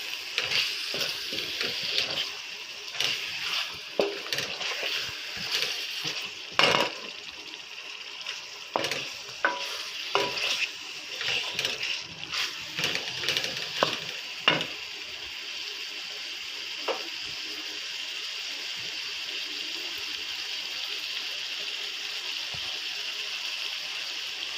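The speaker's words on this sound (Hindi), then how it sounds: "अब मैं मसाले को अच्छी तरह भून लूँगा।" Masala spices for Pakistani gobi gosht fry in a pan with a constant close sizzle, while a spoon scrapes and stirs in bursts that fade into a steady frying hiss.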